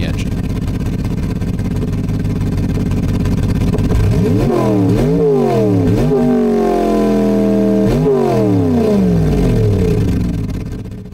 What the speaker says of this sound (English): the engine both produces more power, but also sounds noticeably different